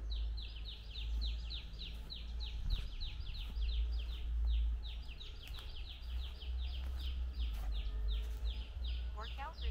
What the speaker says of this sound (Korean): 새들이 살기에 좋은 환경이기 때문에 새소리가 많이 들리는 게 또한 특징입니다.